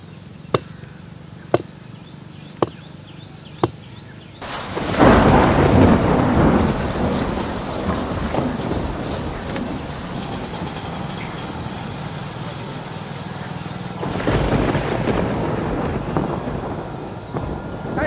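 A monsoon thunderstorm starts with a few sharp isolated clicks, then breaks into a loud crash of thunder and heavy pouring rain that holds steady and swells again near the end.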